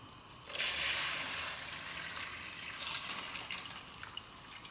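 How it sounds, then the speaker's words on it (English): Water poured into a pot for boiling a liter over 500 grams of washed potatoes: a steady close splashing stream begins abruptly, then thins into a lighter trickle with small splashes, and no talk. "now I'm going to put it to boil up with a liter of water"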